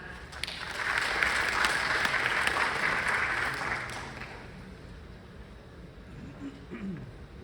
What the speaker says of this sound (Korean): 다시 한번 박수 부탁드리도록 하겠습니다